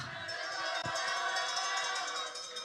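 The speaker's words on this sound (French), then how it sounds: "On les applaudit bien fort." Crowd at a Eurobot robotics contest applauds and cheers as a match begins, a dense, lively roar of clapping and voices with a brief thump partway through.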